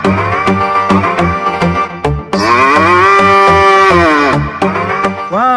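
A cow moos loudly and repeatedly in a children's toy-cleaning setting, long drawn-out bellowing calls one after another, close and strong, with a brief rising call at the end.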